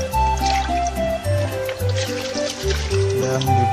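Water poured and splashing while a small pet hedgehog's cage is rinsed and washed, a steady trickling and dripping flow close by with faint background tones.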